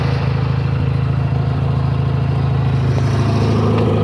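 A lawn tractor's small engine strains steadily while towing an abandoned Ford shorty van by an axle strap wrapped around the bumper, a loud, continuous mid-pitched drone with rattling clatter and a slight rise in revs near the end.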